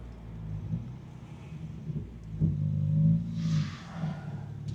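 A BMW 335i engine drops a gear on its own and picks up speed, its low drone swelling into a brief, rising rev under road rumble inside the car, moderately loud with no talking.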